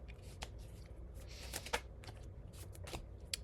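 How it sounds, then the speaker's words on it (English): Tarot cards being shuffled and drawn from a deck, with soft papery riffling and flicking, a few sharper snaps standing out, close and quiet throughout. "I'm going to draw some cards on the energy that you, yeah, have come from"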